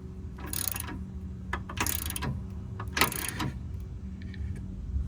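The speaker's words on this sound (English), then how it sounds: "Now I'm going to torque up the other side." A ratchet wrench tightening the nut and bolt of a Rough Country V2 steering stabilizer on a 2024 Silverado, heard as three bursts of close, rapid clicking separated by pauses, with faint clicks near the end.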